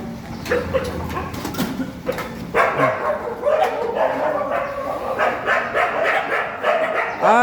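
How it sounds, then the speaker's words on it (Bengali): Rounded-up dogs from a road bark repeatedly in a dense, overlapping chorus of loud yaps and yips, close by and almost without pause. "সাতান্ন রোডের সবগুলো কুকুর তুলে নিয়ে আসছে"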